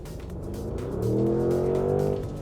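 Porsche Cayenne S revving and accelerating, engine note rising in pitch with clear harmonics, fairly close and alone with no talk.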